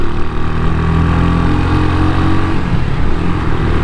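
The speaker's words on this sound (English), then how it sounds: "your hand on the throttle, giving a little gas to get it warmed up" CSC SG250 motorcycle engine warming up with a little throttle, a loud, close, steady idle drone that holds throughout without clear revving, no talk.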